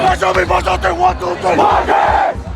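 A loud crowd in the end zone at a high school football game roars and chants in rhythmic bursts, close and massed, with the noise swelling into a sustained cheer.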